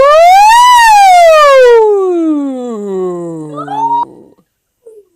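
A voice imitates a siren, rising briefly then sliding down in one long, loud, smooth glide before breaking off into a short vocal fragment.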